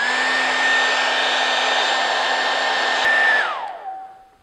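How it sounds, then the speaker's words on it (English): A hair dryer runs steadily at close range with a constant whine, heating glue for a patch on an inflatable boat, then shifts down in pitch and winds off near the end. "For best results, heat the glue up with a hairdryer."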